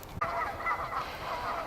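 Nesting geese honk repeatedly in a steady, overlapping chorus, fairly loud and near, with a low outdoor rumble underneath.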